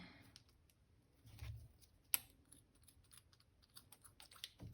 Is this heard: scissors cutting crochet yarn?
yes